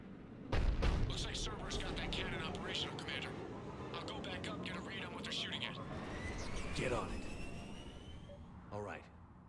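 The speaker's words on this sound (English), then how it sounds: "Looks like Cerberus got that cannon operational, Commander" Heavy cannon artillery fire in the Mass Effect 3 video game, booming blasts and roaring jet-like passes blended with battle noise, with characters talking over the action.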